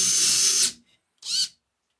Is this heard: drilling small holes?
yes